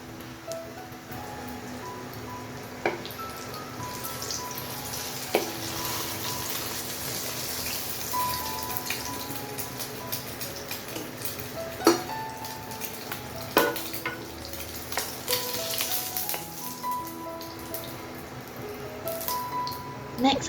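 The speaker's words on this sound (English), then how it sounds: "When the egg got a nice brown bottom, then just flip it over and cook on the other side." An egg fries in a wok with a continuous loud sizzle. Occasional sharp clinks and scrapes of a utensil against the pan come through, with no talking.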